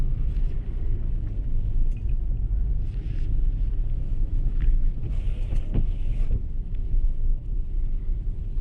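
A 2018 Toyota 4Runner TRD Off Road with KDSS suspension drives on snow, heard as a steady, loud low rumble of engine and road noise from inside, with some wind buffeting and a few faint rattles.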